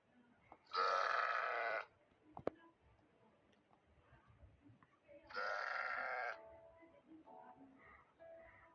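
A goat in a video game bleats twice, each call a strained, nasal cry lasting about a second, separated by quiet clicks and faint rustling.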